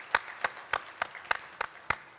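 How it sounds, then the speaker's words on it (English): An audience at a business summit claps sparsely: about eight slow, evenly spaced claps, fairly close and distinct, with quiet gaps between them. "So a big round of applause."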